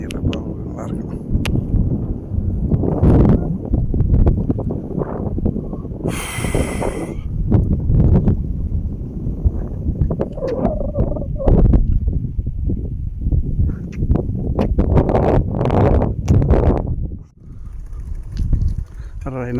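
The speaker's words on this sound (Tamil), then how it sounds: "உங்களுக்கு கேட்குதான்னு காற்று அந்த தண்ணி சவுண்டு" Gusty wind roars and buffets the microphone at Tai Mo Tak beach in Hong Kong. The noise rises and falls in uneven bursts beneath nearly constant nearby talking.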